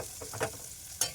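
Slit green chillies fry in hot oil with a soft, steady hiss. Two quick stirring knocks punctuate it, the second one sharper. Fairly quiet and close, with no speech.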